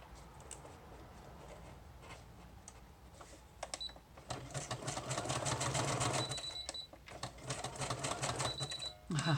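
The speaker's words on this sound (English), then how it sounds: "I think I'll go ahead and sew down that green edge there." A sewing machine stitches along paper edges in bursts of rapid mechanical chatter, starting and stopping, close and fairly quiet, with light rustling between runs.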